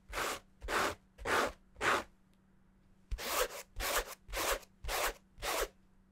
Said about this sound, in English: Let's do a little scratch test, a little ASMR for you guys.